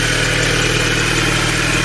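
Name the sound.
car engine running at idle after cold start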